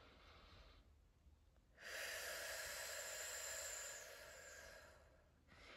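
A person breathes deeply during a guided breathing exercise, a soft inhale followed by a long, loud, airy exhale close to the ear, with a quieter breath starting at the end.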